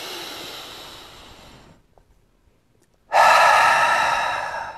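A man demonstrates rapid panicked breathing: a loud stretch of quick hissing breaths, a brief pause, then another burst of sharp, forceful panting close to the mic, with no talk.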